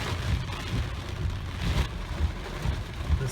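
Heavy monsoon rain pours down during a severe thunderstorm in Bakersfield, California, a loud, steady roar of drops drumming on surfaces with low rumbling underneath.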